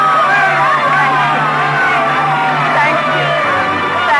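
Frenzied audience applause as a radio drama sound effect, a dense, loud, continuous roar of crowd noise with cheering and yelling textures, steady throughout with no distinct speech.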